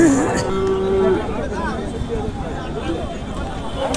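Cattle low and bellow at a large outdoor cattle market in Satkhira before Qurbani Eid, one drawn-out moo standing out early over a background babble of voices and crowd noise.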